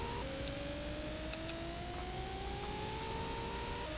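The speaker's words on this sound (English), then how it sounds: "a lot of these simulation racers forego music for the sake of these lovely engine noises" Simulated car engine from a Sega Genesis racing game: a steady synthetic whine that climbs slowly in pitch as it revs, held constant and loud throughout with no music.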